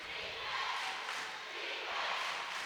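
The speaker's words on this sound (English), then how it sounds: "Raucous Hauppauge crowd back into it" Raucous crowd at a girls high school basketball game in Hauppauge cheering in the gym, a dense sustained roar of voices swelling in waves, steady and fairly loud.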